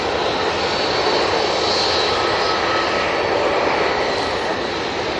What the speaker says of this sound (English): And the A380 is coming up to Heel Green.